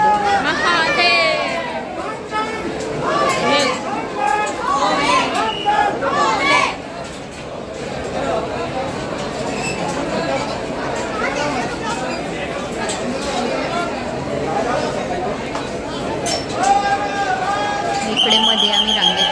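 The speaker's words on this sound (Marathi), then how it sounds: "तर हे गर्दी बघा किती लाखोच्या संख्येने भक्त आलेले." Huge crowd of devotees thronging a temple in Kolhapur, a dense, continuous babble of many voices close around, with scattered shouts and calls rising over the hubbub throughout.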